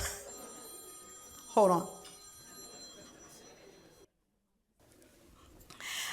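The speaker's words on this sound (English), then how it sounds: "I think that's my phone. Can someone turn that off?" A phone rings in a symposium hall, with a short burst of electronic ringing tones cutting loud over a soft speaking voice, then a brief silence before the room noise returns.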